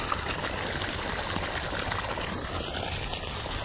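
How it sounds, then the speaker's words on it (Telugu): Water trickles steadily in Sanjeevaiah Park, Hyderabad, a continuous soft hissing flow heard alone at low level. "ఇక్కడ నీళ్ళు వస్తున్నాయి చూడండి"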